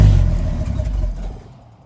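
A 1982 Ford F-150's 4.9L inline-six with an open manifold cranks and catches into a loud, rough low rumble, then fades and stumbles down as it fails to stay running.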